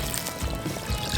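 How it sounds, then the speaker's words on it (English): Water pours into a pan of chicken sloppy joes as a brief, steady splash and trickle, heard close up with no talking. "it's time to add the water."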